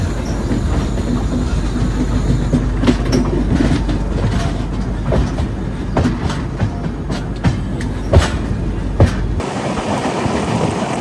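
The Jamnagar–Tirunelveli Express departing Angamaly station, a loud continuous rumble of rolling railcars with repeated wheel clacks over rail joints, before the noise drops away abruptly near the end.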